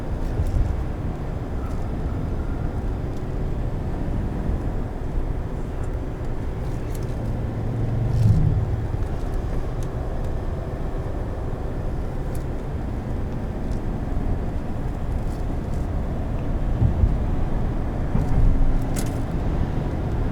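A 2019 Chevrolet Silverado 1500 High Country pickup drives along a back road. Heard from inside the cab, it gives a steady, loud low rumble of engine and road noise that stays unbroken throughout, with no talking.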